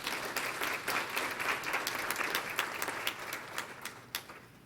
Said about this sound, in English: you all deserve a round of applause for that alone